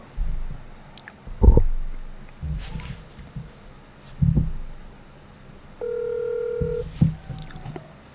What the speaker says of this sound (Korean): 전화 한번 걸어보겠습니다